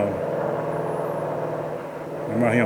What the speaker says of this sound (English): I'm gonna let that fast car go by me